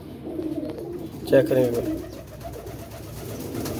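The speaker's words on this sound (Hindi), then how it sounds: "आपको कबूतर दिखा रहा हूँ यार" Pigeons in a coop give a short run of soft, throaty coos at middle distance, mostly around a louder burst just before the midpoint, with someone speaking over them.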